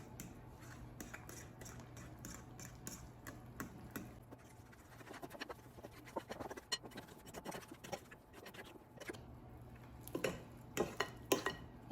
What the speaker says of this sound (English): let's mix until combined